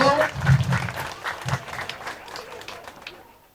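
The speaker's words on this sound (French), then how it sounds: "Acclamez-vous vous-même." Audience at an outdoor campaign rally applauding, a short burst of claps that peaks early and fades within a few seconds.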